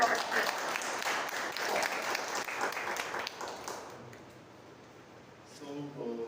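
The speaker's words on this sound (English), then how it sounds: "Round of applause." A Toastmasters club meeting applauds before the timer report, a crowd clapping for a few seconds that fades away into quiet room sound with a faint tone near the end.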